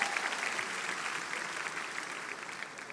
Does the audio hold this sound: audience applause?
yes